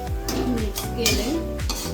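Pav bhaji ingredients with turmeric being stirred in a pan, a spoon scraping and clinking against metal in repeated strokes, with faint sizzling underneath.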